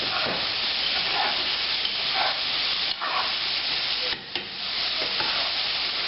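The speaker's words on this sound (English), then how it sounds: "Let's go ahead and just give these a little toss." Shrimp frying in hot oil in a pan for a New Orleans po' boy, tossed and stirred; a steady close sizzle runs throughout with brief dips and scraping stirs.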